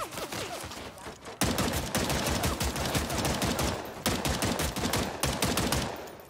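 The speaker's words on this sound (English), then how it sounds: "How much continual fire can this do?" Continuous loud automatic gunfire in the Vampire: The Masquerade video game, a dense, unbroken rattle of rapid shots from close by.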